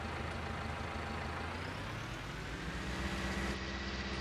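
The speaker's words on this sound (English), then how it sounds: "drive this trailer load up to the malt factory" A farm vehicle in Farming Simulator 19 hauls a trailer load of dried grain toward the malt factory, giving a steady, loud engine drone with low rumble that holds evenly throughout.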